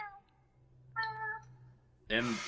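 Someone imitates a robotic cat meow with the voice, a couple of short, flat, buzzy meows, quiet and close, ending in a burst of noisy breath or laughter.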